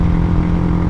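A motorcycle fitted with an RX8 aftermarket exhaust makes a loud, close, steady low engine drone that holds for under a second, with no voices over it.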